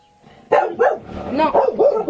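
Several dogs bark in quick repeated bursts, close and loud, their yaps overlapping in an uneven rhythm after a brief quiet start.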